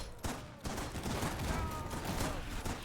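Dense, continuous gunfire from the WW1 battlefield game Holdfast, a loud, sustained barrage of overlapping shots with a few heavier bursts and no let-up.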